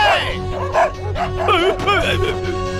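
Dogs bark and yip in a tense Hindi film scene, short sharp calls repeating over about three seconds, mixed with voices and background score.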